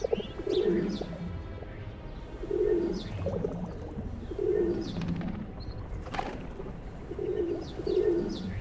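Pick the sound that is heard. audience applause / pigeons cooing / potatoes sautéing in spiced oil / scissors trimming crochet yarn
pigeons cooing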